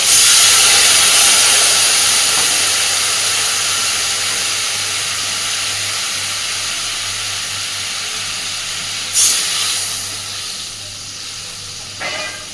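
Water splashed into hot oil with mustard and garlic paste sets off a loud, steady hiss of sizzling and steam that slowly fades over several seconds, with a brief fresh burst of spitting near the end.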